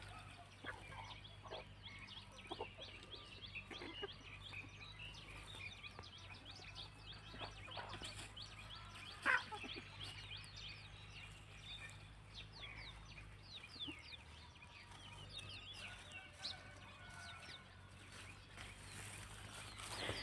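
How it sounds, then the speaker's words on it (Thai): Free-range chickens cluck softly and intermittently while eating their morning feed over a steady low hum, with scattered pecking and scratching sounds throughout and one sharp louder noise near the middle. "ไก่บ้านสวน"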